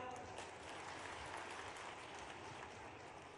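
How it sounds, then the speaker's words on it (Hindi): Crowd clapping at a political rally for a women's welfare scheme event, a faint, distant and continuous wash of many hands that stays even throughout. "अगर सही है तो ताली बजा दो।"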